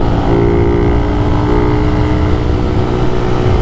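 Two motorcycles of a Raider riders' group cruise along a road in Glan, Sarangani, their engines droning steadily and loudly close by with a continuous low rumble and no voices.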